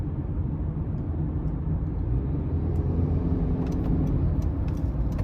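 A 2023 Honda CR-V EX with a 1.5-litre turbocharged engine and all-wheel drive accelerating out of a corner, heard from the cabin as a steady low engine and road rumble that swells slightly, with no talk over it.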